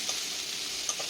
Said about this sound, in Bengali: শাকটা একদম শুকনো হয়ে ভাজা হয়ে গেছে।